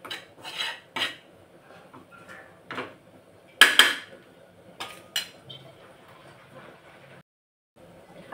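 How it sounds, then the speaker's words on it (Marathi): Gram flour being roasted in a pan and stirred with a metal spoon, sparse scraping clinks against the pan at irregular intervals over a quiet background, with no talk. "खमंग असा सुगंध येईपर्यंत हे पीठ भाजून घ्यायचे आहे"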